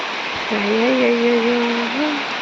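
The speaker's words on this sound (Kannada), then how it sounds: "ಸಿಕ್ಕಾಪಟ್ಟೆ ಮಳೆ ಬರ್ತಾ ಇದೆ ಹೆಂಗೆ ಅಂದರೆ ಗಾಳಿ ಗಾಳಿ ಬರ್ತಾ ಇದೆ" Heavy rain pours with a steady, dense hiss, and a voice sounds briefly over the downpour in the middle.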